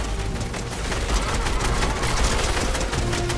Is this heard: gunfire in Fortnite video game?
yes